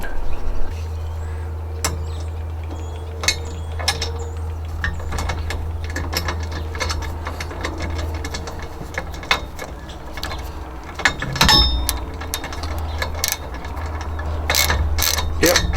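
A ratchet tightens a lock nut on a Boonedox Outfitter truck bed kayak rack, giving close, irregular clicks over a steady low hum.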